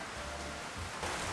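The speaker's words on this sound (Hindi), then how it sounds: "यहाँ पे बारिश शुरू हो गई।" Rain begins to fall outdoors during a lockdown-period bike outing: a soft, steady hiss of drops, faint and even throughout, swelling slightly near the end.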